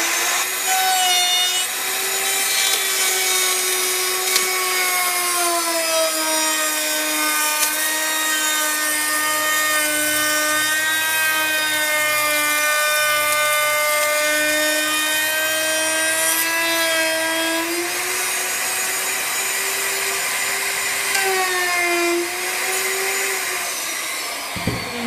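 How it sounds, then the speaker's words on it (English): A hand saw cuts wood for a picture frame in steady back-and-forth strokes, loud and close, with a rasping, whining tone that runs continuously for the whole stretch without talk. "So I'm going to have to cut for a little while, move a clamp, and then just keep going back and forth."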